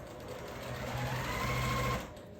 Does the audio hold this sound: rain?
no